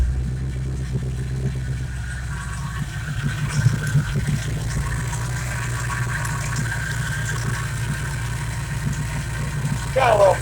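An old car engine idles steadily with a rotted-out exhaust and no cooling system fitted, a low continuous rumble throughout, close by in a workshop, with a brief clatter near the end.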